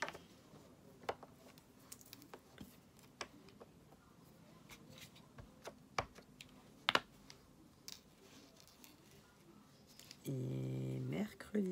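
Light, scattered clicks of typing on a computer keyboard, soft and close, with irregular keystrokes and a few louder taps over faint background noise, ending in a short burst of a steady buzzing tone.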